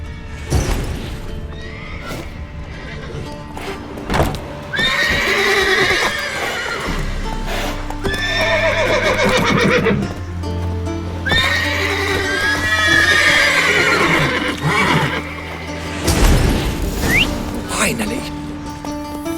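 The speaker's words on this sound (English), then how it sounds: "Gotta calm all the horses before they wake the guards." Horses neigh and whinny repeatedly in a stable in The Witcher 3 video game, loud and close, with clip-clopping hooves and restless movement under a game soundtrack.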